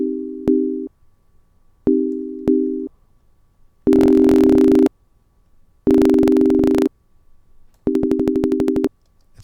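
A synthesizer in Ableton Live's Wavetable plays a repeated tone whose envelope loops, producing pulsing bursts of sound separated by short silences, some choppy and some sustained with rapid stuttering.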